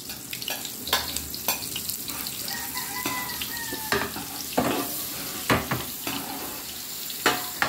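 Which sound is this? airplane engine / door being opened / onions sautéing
onions sautéing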